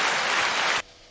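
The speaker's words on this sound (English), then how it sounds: "That gets the round of applause." A brief, recorded-sounding burst of applause, bright and dense, cutting off abruptly after under a second.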